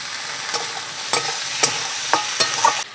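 Bay leaves, chopped onion and raw tomato fry in oil for a crab curry, a steady sizzle broken by several sharp scraping stirs of a spoon against the pan at irregular intervals, close and clear with no talking.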